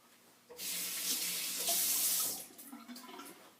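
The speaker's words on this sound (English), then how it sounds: "take this 26C, run it under the water" Running tap water splashes over a Parker 26C safety razor as it is rinsed, a bright steady rush lasting about two seconds before tapering into quieter trickles and drips.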